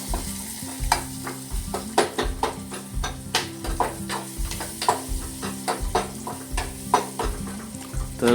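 Spiced mixture with turmeric and masala being stirred and fried in a pan during home cooking, a steady sizzle broken by repeated rhythmic scrapes and clinks of the spoon against the pan, close and continuous, no talking.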